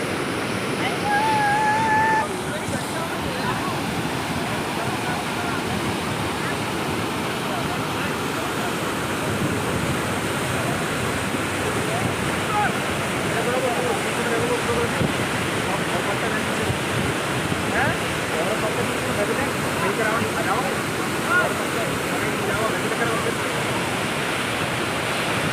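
Continuous broadband rush of flowing water amid mud and waterlogging on a village route to school, steady and fairly loud throughout, with no voices over it.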